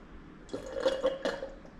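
Icy, watermelon-flavored collagen water is sipped close up in a quiet room, with a few soft wet gulps and swallows in quick succession over about a second.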